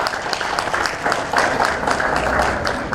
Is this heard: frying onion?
no